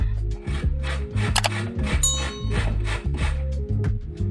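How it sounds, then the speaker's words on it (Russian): Young zucchini is grated on a coarse grater: loud, close rasping strokes in a quick, steady rhythm with a few light metallic clinks. "Натираю их на крупной терке."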